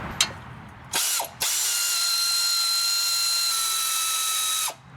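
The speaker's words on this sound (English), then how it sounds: "Install those 19mm bolts the same way they were removed." A ratchet tightens 19mm brake caliper bolts on a Nissan Rogue, with a short click, a brief burst of rapid ratcheting, then a long steady run of quick clicks, close and loud, with no voices.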